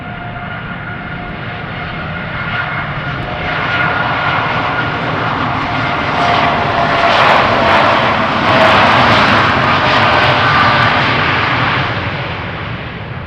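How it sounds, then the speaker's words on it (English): A KLM Boeing 777-300ER with GE90 engines takes off from runway 36L at Amsterdam Schiphol, its jet roar building loud and close, peaking, then slowly fading as it climbs away. "the GE90s on this airplane sound a little different than I'm used to"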